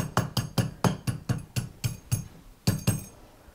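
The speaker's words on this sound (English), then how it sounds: "grab my rawhide mallet. And just as I tap," A rawhide mallet taps a silver stacking bangle on a steel mandrel, about a dozen crisp knocks with a slight metallic ring, evenly spaced, then a short pause and two more, close and moderately loud.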